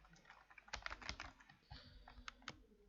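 A file name being typed on a computer keyboard, a quick burst of close, quiet key clicks followed by a few scattered taps, no voices.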